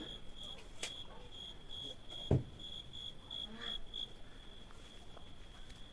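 Crickets chirp steadily in a high, continuous trill, with a single soft thump partway through against a quiet outdoor background.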